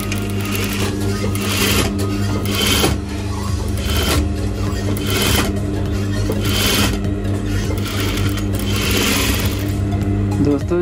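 Sewing machine stitching the corner seam of a front-open abaya, a steady continuous whirring drone with the needle's rapid rhythmic chatter, running close and loud throughout without pause.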